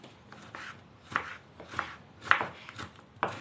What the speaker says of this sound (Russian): Я режу как в салат, нормально.